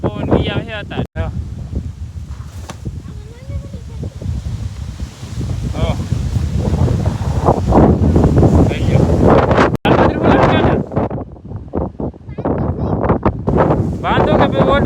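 Strong wind gusts during a rainstorm, a loud rushing roar with rustling and buffeting against the microphone, while people talk throughout.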